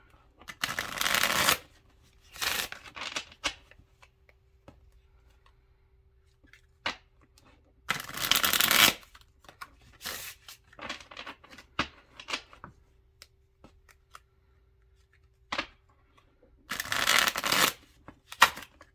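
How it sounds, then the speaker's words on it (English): Tarot cards shuffled in several separate bursts, each a crisp riffling flutter lasting about a second, with quiet gaps and small taps between them; close and alone with no talk. "She does not want to be shuffled anymore."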